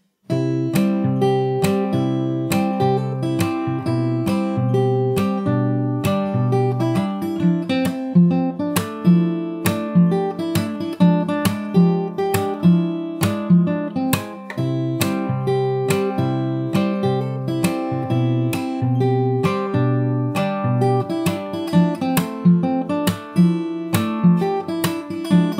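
Fingerstyle acoustic guitar plays a song at full tempo, with a steady pulse of plucked bass notes, percussive string slaps and bright melody picking. It is close and even in volume, with no talking throughout.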